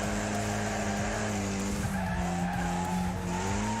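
In the video game Wreckfest, a race car slides out under throttle. Tyres skid and squeal continuously over a droning, fluctuating engine, with other cars audible nearby and no voices.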